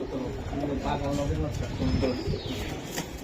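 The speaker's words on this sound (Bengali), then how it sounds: "বাহ কবুতর আর কবুতর আজকে" Racing Giribaz high-flyer pigeons coo softly in a steady, muffled murmur, partly masked by a busy background of voices and ambient noise.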